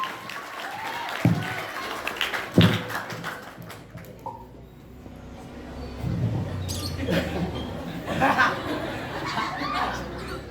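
An audience claps for a speaker at a Maulid Nabi religious gathering, with scattered taps giving way to a fuller burst of applause, mixed with murmuring voices and chuckles.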